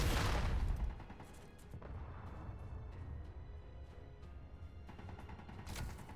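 A rocket launches at a turret in Space Engineers, opening with a loud, close whooshing blast that fades into a low rumble, with faint thuds and another burst near the end.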